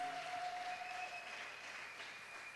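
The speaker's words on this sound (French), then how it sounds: "Est-ce qu'on peut continuer à acclamer le Seigneur?" A church congregation applauding the Lord, a dense wash of clapping that holds steady at moderate level throughout, with no speech over it.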